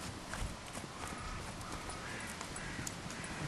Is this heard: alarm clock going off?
no